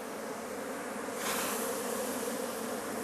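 Native Korean honeybees buzz from a hive of paulownia wood set on a city building rooftop, a steady dense hum from many bees close by, swelling a little louder partway through.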